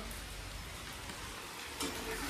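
Chicken and potato curry cooking in a pan in a home kitchen, heard as a steady, quiet sizzle, with a brief clatter of stirring toward the end.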